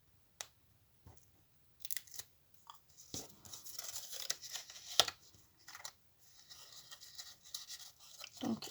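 Short, scattered rips and crinkles of tape being pulled and torn, quiet and close, with brief gaps between bursts.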